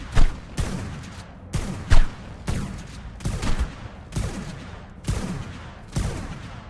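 Gunfire in ARK: Survival Evolved, a run of about eight sharp, loud shots spaced roughly a second apart, each with a short echoing tail, with no talk over them.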